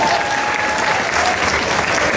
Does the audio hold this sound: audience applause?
yes